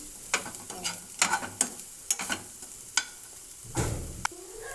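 Onions for a Kerala-style beef curry sautéing in a pan, with scattered stirring scrapes and clinks over a soft sizzle, close and fairly quiet.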